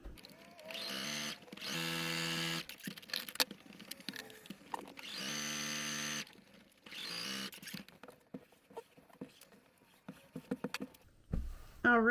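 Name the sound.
sewing machine stitching quilted fabric strips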